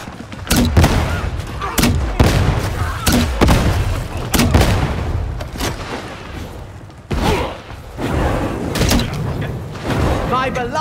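Heavy gunfire and booming grenade explosions in Warhammer 40,000: Darktide, a relentless series of sharp loud blasts and shots in a chaotic fight on Damnation difficulty, with character voices shouting between the bursts.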